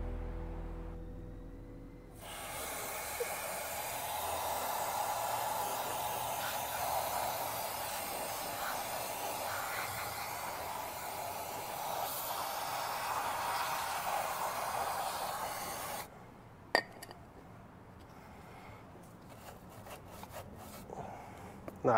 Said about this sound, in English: I'm going to tackle all this horrible built up chain lube that's built up underneath this front sprocket, and I'm going to use the Oxford Mint bike degreaser